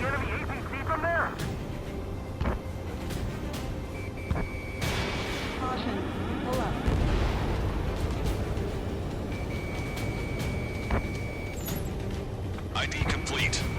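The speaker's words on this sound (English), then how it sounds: "Missile launched." In the Ace Combat 7 video game, a missile launches and explosions go off in a steady roar of combat, with sharp booms and blasts over a constant rumble. Voices speak throughout and electronic beeps sound intermittently.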